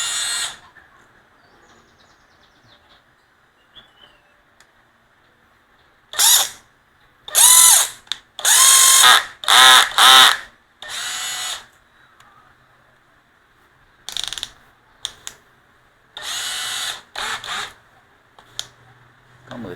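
Cordless drill driver with forward and reverse, two speed settings and 18 clutch positions plus a drill mode, whirring loudly in repeated short bursts that rise and fall in speed, with pauses between runs and no talking.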